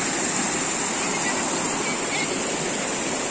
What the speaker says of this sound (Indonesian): Tapi ini kayak apa ya, air terjun buatan kayak gitu.